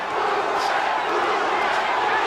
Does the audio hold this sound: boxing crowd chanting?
yes